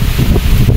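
Strong wind buffets the microphone outdoors, a steady low rumble with gusty swells lasting under a second and no voices heard.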